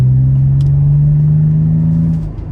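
A Toyota 4Runner accelerating under light throttle, its engine producing a loud, steady low drone that rises slightly in pitch and then drops away near the end, heard close with no talking.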